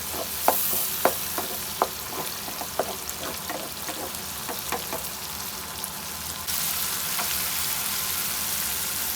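Spice masala of crushed red chili, salt and tomatoes is sautéed and stirred in a pan. A continuous close sizzle is punctuated by sharp spatula clicks and taps. The hiss swells louder near the end, with no one talking.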